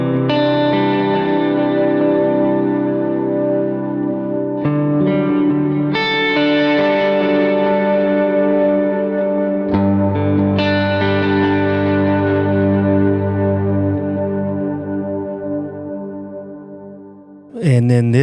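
An electric guitar played through a big modulated delay on a Line 6 Helix rings out in sustained chords, each trailing into warbling, wavering repeats that blur together and slowly fade, with a fresh strum near the end.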